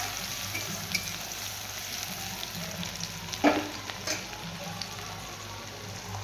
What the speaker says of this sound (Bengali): পেঁয়াজ কুচিটা একটু হালকা হালকা করে ভাজতে হবে।